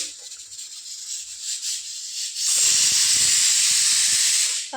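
A kitchen pressure cooker lets off steam in a loud, rushing hiss that builds midway and holds steady before cutting off.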